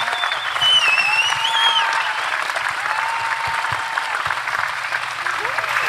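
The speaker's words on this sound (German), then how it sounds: "Euer Beifall" Continuous audience applause fills a palace hall after a German panel discussion, dense and steady, while someone speaks over it and a few cheers and whistles cut through the crowd's clapping.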